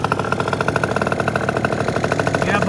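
Vento Triton R4 motorcycle engine idling at about 460 RPM, a steady close pulsing chug with an even rapid rhythm throughout.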